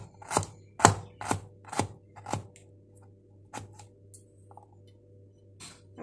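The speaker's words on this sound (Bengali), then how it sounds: "এটাকেও একটু কুচি করে কেটে নিচ্ছি।" A knife chops ginger finely for a paneer masala, about a dozen sharp, close knocks on a cutting board in quick irregular bursts, then a few sparser taps, with no talking.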